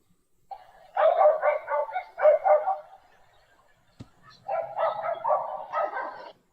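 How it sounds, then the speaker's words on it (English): A dog barks in two quick bursts of rapid, overlapping barks, close and loud, separated by a short pause with a sharp knock, with no talk over it. "Dog a bark and so."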